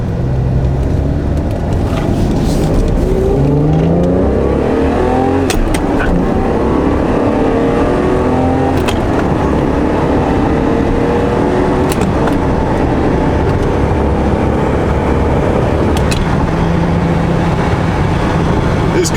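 A 1987 Ferrari Testarossa is driven hard through its gears, the engine note climbing and dropping repeatedly with each upshift, loud and close inside the car.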